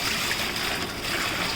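Water rinses out an RTIC 52-quart hard cooler, a brief, steady hissing rush of flowing water heard up close, with no voices.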